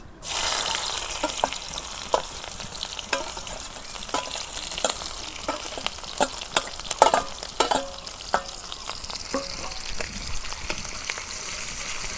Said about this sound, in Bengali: তেল গরম হয়েছে, এখন আমি পেঁয়াজ কুচি দিয়ে দেবো।